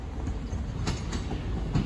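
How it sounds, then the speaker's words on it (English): Train nearing a level crossing at Sleaford East, a loud steady rumble of wheels and carriages with faint rhythmic clicks, close by, with no voices. "Oh, train's approaching."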